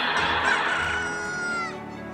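Chickens in the video game Super Mario RPG, a dense flock crowing and clucking together, loud and continuous, with a prolonged crow rising above the clamor before it fades slightly at the end.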